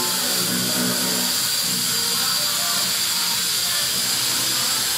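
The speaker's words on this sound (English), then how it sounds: "And a bit of sanding going on there as well." Power sanding of lacquered paint on a Maserati during detailing, a steady close hiss and whir that holds continuously throughout with no pauses.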